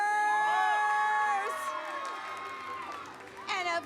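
A concert crowd of teens and young adults cheers and whoops for camp counselors, bright shouts and high voices rising over continuous crowd noise, swelling again near the end.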